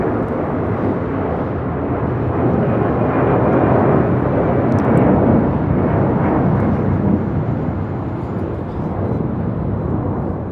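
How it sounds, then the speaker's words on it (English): A Delta Boeing 757-200 airliner takes off from the south-side runway at LAX, its jet engines giving a loud, steady, broadband roar that holds throughout. "Do have a Delta 757 taking off here on the south side."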